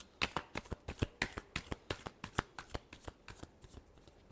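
Tarot cards being shuffled close by, a steady run of crisp riffling flicks roughly every quarter second, each a short papery burst, with no voices over it.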